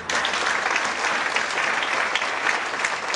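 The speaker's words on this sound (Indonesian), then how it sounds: "Berikan tepuk tangan." A church congregation applauds during a sermon, sustained even clapping from a large crowd with no letup.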